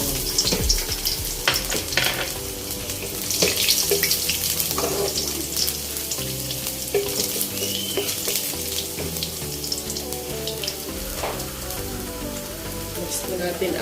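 Garlic sizzles in hot oil in a home kitchen, a steady crackling fry with light clatter and a quiet background of music and faint voices.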